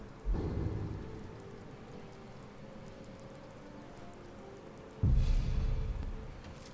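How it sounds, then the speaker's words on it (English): Steady rain pours throughout in the video game Skyrim, with two deep rumbles of thunder, one at the start and a louder one near the end, no voices. "Storm's coming. The rain will stop eventually."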